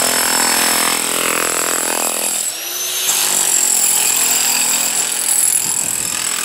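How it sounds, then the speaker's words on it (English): Power chisel cutting out cracks in a concrete driveway, a loud, continuous harsh hammering drone that briefly dips and then resumes, close up with no talk. "We're in the process of chiseling everything out."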